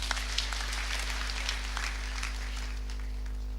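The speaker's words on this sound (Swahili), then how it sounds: "Pigia Bwana makofi." A church congregation at a Kikuyu service claps steadily for the Lord, with scattered uneven hand claps heard faintly over a low constant hum.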